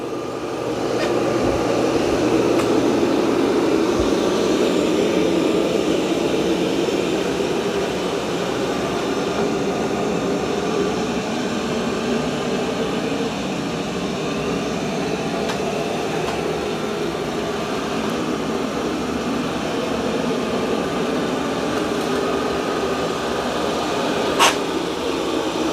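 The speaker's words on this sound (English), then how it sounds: "And it's mopping up the muddy paw prints." An Ecovacs Deebot T30S robot vacuum and mop mops muddy paw prints off the floor with a steady, close motor whir that holds for the whole stretch and has no talk over it.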